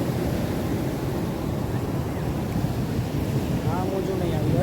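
Sea waves wash onto a beach shore with a steady loud surging hiss and rumble, close by and continuous, mixed with wind buffeting the microphone.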